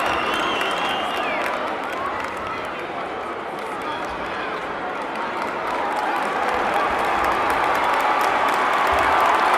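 Basketball crowd in a Solon high school gym, cheering and applauding steadily around a big three-pointer, a dense roar with clapping that swells slightly toward the end, mixed with voices.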